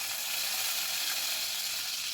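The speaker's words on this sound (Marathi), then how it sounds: "आपली फोडणी चांगली तडतडली" Mustard seeds and curry leaves tempering in hot oil with asafoetida for a potato paratha filling, giving a steady, fairly quiet sizzle and hiss that stays even throughout with no talking.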